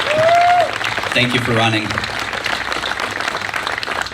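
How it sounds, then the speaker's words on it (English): Audience applause at a Republican district political debate, steady clapping from a room of people that continues throughout while someone speaks briefly over it. "Round of applause"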